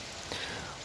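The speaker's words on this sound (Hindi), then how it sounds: "बारिश का शोर भी आपको सुनाई दे रहा होगा।" Heavy rain pouring at night during a power cut, a dense, steady hiss of drops on surfaces that fills the whole short moment without any voices.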